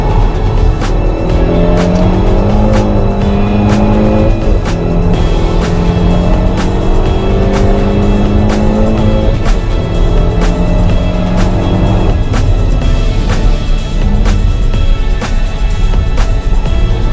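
A Peugeot 308 GTi driven hard around the Nürburgring, its engine loud and close, revving up and down through repeated gear changes and corners with brief tire squeal, continuous throughout.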